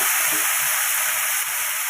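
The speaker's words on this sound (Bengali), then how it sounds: "ভালো করে কষাবো এখন মাটন যত বেশি কষাবো ততই ভালো" Mutton fries in a hot wok, a steady, close hiss and sizzle that holds evenly throughout with no voices.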